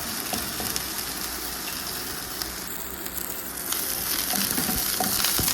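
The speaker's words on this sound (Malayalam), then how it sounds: "ഇത് ചെറിയ എണ്ണയിൽ നമ്മൾ ഫ്രൈ ആക്കുന്നതാണ്." Chicken fries in a small amount of oil, a steady close crackling sizzle that grows slightly louder toward the end, with faint stirring scrapes.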